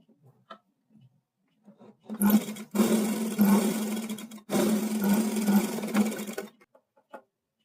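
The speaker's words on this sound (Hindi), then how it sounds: "अब हम इसके चारों ओर सिलाई लगा देंगे।" A sewing machine stitching blouse fabric in two loud, fast bursts of whirring, separated by a brief pause, with quiet clicks and handling sounds before and after.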